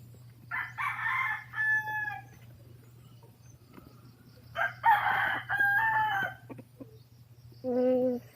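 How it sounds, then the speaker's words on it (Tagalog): Two loud rooster crows ring out in succession, followed by the start of a third, over a low steady hum with quiet gaps between. "Ito namin manok."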